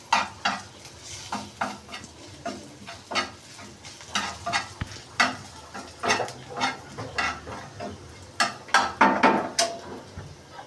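Eggplant slices fry in a hot pan, a steady sizzle broken by repeated loud clinks and scrapes of a spatula turning the pieces, close and busy throughout.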